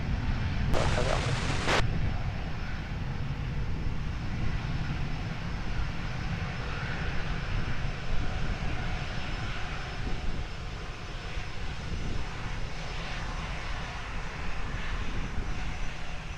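At Lisbon Airport, a distant airliner engine roars as an Airbus A320 rolls for takeoff, giving a broad, steady rumble that lasts throughout. A brief burst of radio chatter comes near the start.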